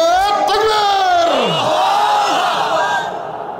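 A large crowd at an Islamic waz sermon answers a takbir call with a loud, unison chant of many voices. It swells, then slowly fades over a few seconds.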